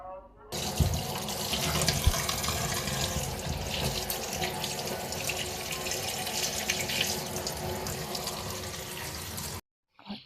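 Running tap water pours steadily into a sink while cut catla fish pieces are rinsed, a continuous close splashing stream that fills the clip and stops abruptly near the end.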